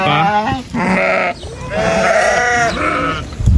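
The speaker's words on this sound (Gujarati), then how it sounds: "આ છે આપણા ગટ બકરા." Goats on a village farm bleat loudly and close by, several overlapping wavering calls one after another with brief pauses between them.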